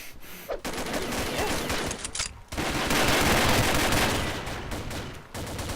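Burst-fire gun shots in a video game, loud dense volleys of rapid gunfire nearly filling the stretch, broken by two short pauses, close and alone.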